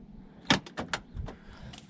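The door catch on a Volvo V70/S60 estate is flicked in by hand, making a few short plastic-and-metal clunks and clicks close up, spread over about a second and a half with quiet pauses between.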